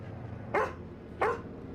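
A dog barks twice, about two-thirds of a second apart, in a scene from The Last of Us episode 1. The barks are sharp and close, with no talk over them.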